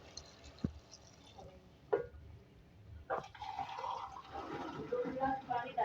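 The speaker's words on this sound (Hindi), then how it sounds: "अब इसके अंदर मैं ये पानी ऐड करूँगी ताकि हम इसको कुक करेंगे गोश्त को" Two glasses of water pour into a pot of beef for cooking, a rising splashing gurgle after a few clinks and knocks, a voice speaking over it.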